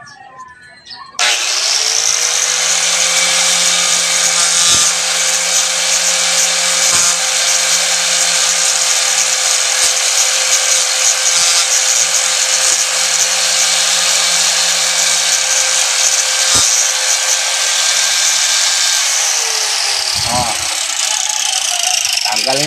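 An angle grinder fitted with a chainsaw disc carves a bump off a piece of wood, giving a loud, steady high-pitched whine with a low drone that runs unbroken for about nineteen seconds before spinning down.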